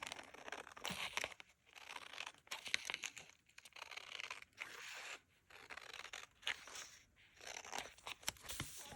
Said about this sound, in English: So let's cut down this clear transparent paper